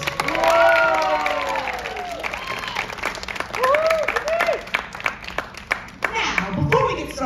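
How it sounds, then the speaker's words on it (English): Audience applause welcoming improv actors to a stage, lively clapping mixed with high whoops and cheers, loudest early and around the middle, then breaking into scattered claps and calls. "let's welcome our actors to the stage with a round of applause."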